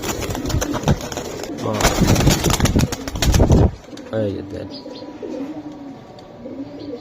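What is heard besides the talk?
pigeons cooing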